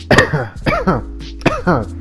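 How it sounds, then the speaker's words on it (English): A sharp, close cough near the start, followed by someone talking. "I literally cough immediately"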